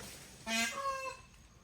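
A single chicken gives a loud, drawn-out cluck-call lasting under a second, alone against a quiet outdoor background.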